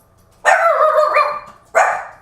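Dogs bark close by indoors, one long loud bark followed by a second sharp bark.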